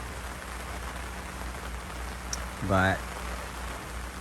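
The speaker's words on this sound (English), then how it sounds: "it's downpouring" Rain patters steadily in the background as a person speaks briefly over it.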